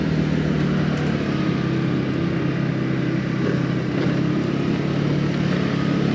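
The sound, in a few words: MBP SC 125 RE scooter riding off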